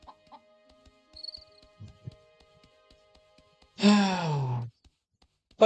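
Chickens in the farming game My Time at Portia give a sudden loud harmonic squawk lasting almost a second, after a stretch of faint scattered clucks and small game sounds.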